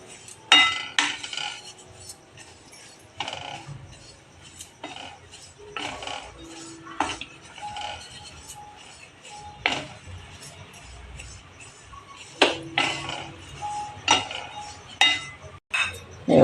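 Coconut is dry-roasted in a hot kadhai while a metal spoon stirs and scrapes it, giving irregular sharp clinks and scrapes close by over a quiet background.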